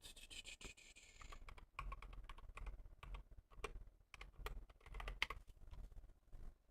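Typing on a computer keyboard, with uneven bursts of soft close key clicks and pauses between words. The sound is quiet and no one speaks.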